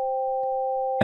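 Tone from an STM32-based clonewheel organ as its drawbars are pulled: a steady, pure sustained organ note held alone at moderate level, with a faint click midway and a brief burst at the end.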